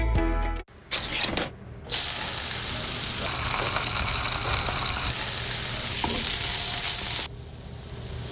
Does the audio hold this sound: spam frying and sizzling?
yes